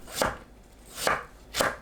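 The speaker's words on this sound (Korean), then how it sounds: "무를 한입 크기로 납작하게 썰어주세요." A knife cuts radish into flat bite-size pieces on a cutting board for a mussel and dried pollack soup, with three crisp, evenly spaced chops close up and no talking.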